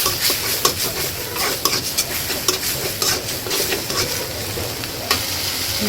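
Spice masala of turmeric, chilli, coriander and cumin being sautéed in a pan, a dense continuous sizzle with repeated spatula scrapes and stirring clatter, close and fairly loud, no speech.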